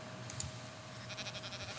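Sheep bleating in Minecraft, faint short wavering bleats repeating in the second half over a low steady background hum.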